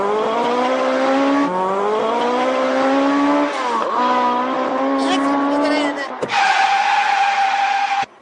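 A car driven hard through city traffic, its engine droning and tyres squealing in long sustained skids that shift in pitch, with a sharp burst near the end before it cuts off.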